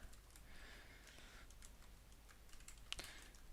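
Typing on the keyboard of a Lenovo ThinkPad T14s AMD laptop, a quiet run of soft key taps with one sharper click near the end, heard alone close up.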